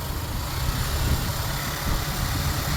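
A car engine runs steadily while driving slowly over a canal bridge, a continuous low rumble that stays close and even throughout.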